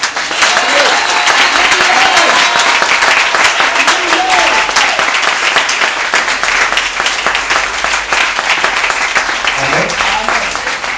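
A church congregation bursts into sustained, loud applause and cheering, with clapping filling the space throughout while voices call out over it.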